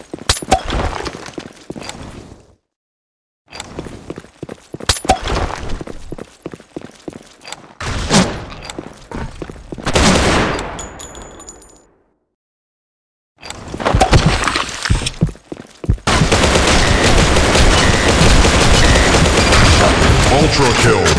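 Gunfire in a shooter video game: loud bursts of rapid shots and heavy booms separated by sudden silent gaps, ending in a long, dense, sustained barrage, with voices calling out over the action.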